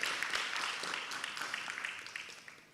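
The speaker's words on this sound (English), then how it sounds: "Can we give a round of applause to our panelists" A health summit audience in Tanzania applauds the panelists, a steady wash of many hands clapping, moderately loud and continuous for the few seconds heard.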